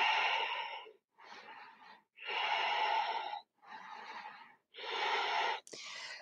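Slow yoga breathing during an intermediate flow with chin lowered to chest: five long, deliberate breaths alternate inhale and exhale, close and clear, each lasting about a second, with no talking.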